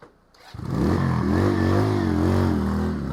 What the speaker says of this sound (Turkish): Bu sizin bildiğiniz motor değil. Bir, bir, bir sefer vurdu mu çalışıyor.